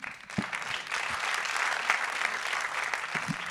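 Audience applause after a public forum discussion on Palestinians, a steady dense clapping wash from many hands with a few sharper nearby claps, sustained throughout.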